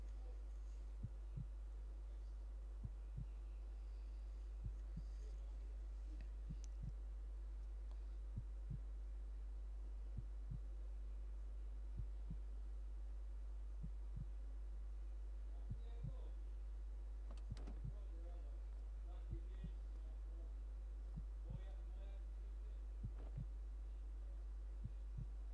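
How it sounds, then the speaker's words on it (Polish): A steady, regular heartbeat from the video game To The Moon thumps softly under a constant low hum, repeating evenly for the whole stretch. "To bicie serca, nie?"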